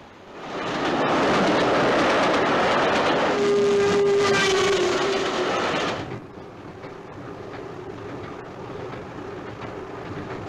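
A train rumbles loudly along the rails with rhythmic clatter, briefly joined by a tonal squeal or whistle, then settles into a quieter steady roll.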